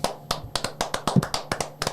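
A small crowd gives a brief round of hand clapping at a whiskey festival's closing gathering, about a dozen sharp, evenly spaced claps, close and moderately loud.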